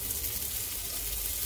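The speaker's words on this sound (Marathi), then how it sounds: "दोन्ही बाजूने तेल परतताना तेल सोडायचं आणि भाजून घ्यायचं चांगलं." Poha, pea and potato patties frying in oil on a wide tawa, giving a steady, close hiss and sizzle that stays constant for the whole short stretch with no voices.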